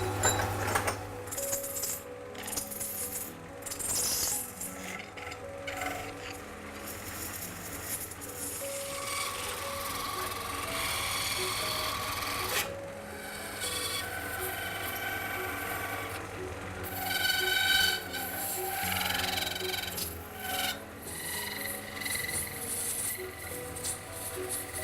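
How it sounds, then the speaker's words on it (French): An old-fashioned metal lathe in a Paris bronze workshop keeps up a faint, continuous mechanical whir and low hum, layered with intermittent scraping, rubbing and ratchety clicks of metalwork, with no voices. "So I can see here we have an old-fashioned metal lathe."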